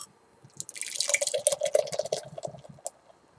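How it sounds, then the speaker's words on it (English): Mutiny on the Bay ale from Alameda Island is poured from a crowler into a room-temperature glass, a close, gentle stream of splashing and fizzing that swells and then tapers off as it foams. "Pour baby right into the glass here."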